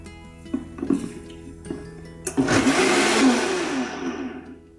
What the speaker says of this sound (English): this nice Vitamix blender really just pulverizes the greens